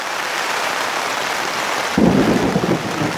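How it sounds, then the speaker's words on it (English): Heavy rain pours steadily outside a yurt during a thunderstorm, loud and close, with a deep rumble of thunder rolling in halfway through and continuing under the downpour. "Thunder and lightning all around me."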